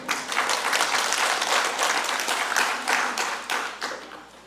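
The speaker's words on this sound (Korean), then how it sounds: "아멘만 해도 된다니까 박수까지 쳐주시고" Church congregation applauding to welcome returning members during a Sabbath service, a full, sustained round of many hands clapping, steady and close, tapering off toward the end.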